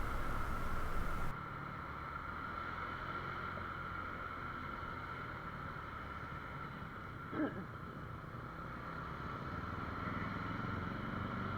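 A motorcycle rides at speed and overtakes on a curve, its engine a steady, fairly faint drone under heavy wind rush that stays even throughout with one brief bump partway through.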